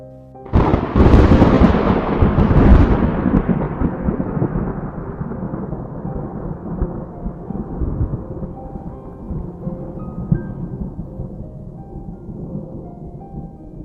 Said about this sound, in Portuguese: Acordei com o som de um trovão,